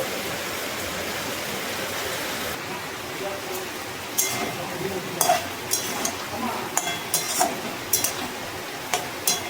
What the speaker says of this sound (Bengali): আজকে দেখো কি পরিমাণে বৃষ্টি হচ্ছে